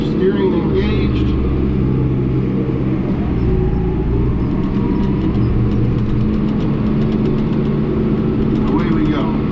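A tractor running in third gear with the PTO engaged at 540 while spreading fertilizer, a loud, steady low engine drone with mechanical whir throughout, and a voice talking over it.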